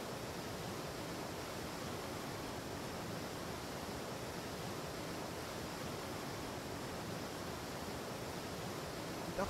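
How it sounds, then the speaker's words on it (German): Steady, dense rush of a waterfall splashing into a small lake in the game Atlas, a constant broadband roar with no talk, even in level throughout. "Wasserfall, der hier schön runterplätschert in einen kleinen See rein."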